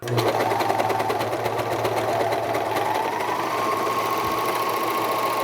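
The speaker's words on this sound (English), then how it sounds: "Now, bring your mask to the serger and continue sewing." A serger stitches through the layers of a cloth face mask with a loud, fast, steady mechanical whirring that holds throughout, close up with no talk.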